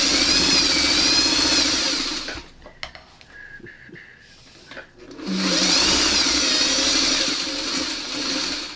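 A sewing machine stitches fabric for a chevron quilt block, giving two steady runs of motor whir and needle clatter split by a short pause, close and fairly loud.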